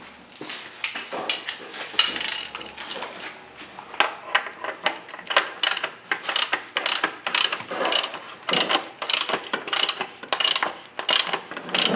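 Ratcheting clicks from a hand tool tightening the oil filter cap on a 2018-2019 Toyota C-HR, a steady run of sharp, close mechanical clicks over about twelve seconds with no talking.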